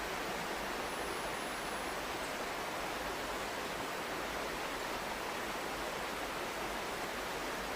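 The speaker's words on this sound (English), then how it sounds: "I found the waterfall." A Costa Rican rainforest waterfall roars as a steady, dense rush of falling water, loud and unbroken throughout, with no voices.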